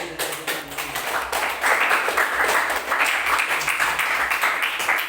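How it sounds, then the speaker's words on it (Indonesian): A classroom group breaks into applause, a dense run of brisk hand claps from many people close by that holds steady for several seconds. "tepuk tangan"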